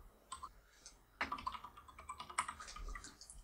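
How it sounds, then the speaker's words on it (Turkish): Faint, close clicks from a mechanical keyboard, tapped in short irregular bursts with brief gaps, alone with no voices. "Bu arada kimden klavye sesi geliyor?"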